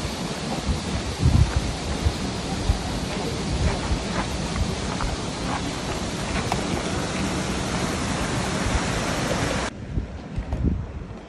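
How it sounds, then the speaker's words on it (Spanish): Steady broadband roar of a waterfall heard from a hiking trail, continuous rushing water close and loud for most of the span, dropping off sharply near the end. "es la cascada está hasta abajo"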